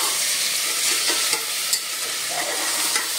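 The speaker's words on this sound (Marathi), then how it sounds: "1 ते 2 मिनिटं आपण मध्यम गॅसवरच हे तेलामध्ये परतून घेऊया" Goat trotters frying in oil over medium heat while being stirred, giving a steady close sizzle with a few sharp scraping clicks from the spoon and no talking.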